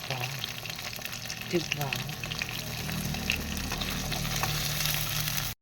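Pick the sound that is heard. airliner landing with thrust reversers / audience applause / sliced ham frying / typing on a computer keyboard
sliced ham frying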